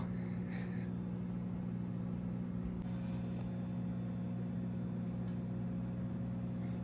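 A microwave oven hums steadily while cooking an ear of corn, a constant low drone with a faint whir and no other sounds over it.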